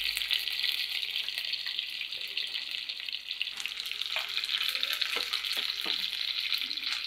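Fish pieces frying skin side down in a pan of hot oil, a steady loud sizzle throughout with a few brief clinks and scrapes in the middle.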